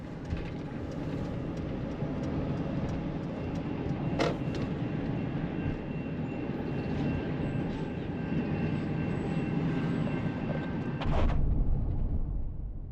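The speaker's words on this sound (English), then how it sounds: "Oh, caught a train." A train rumbles steadily nearby near Springerville, Arizona, a broad continuous roar with a brief sharper clank partway through and a louder swell near the end.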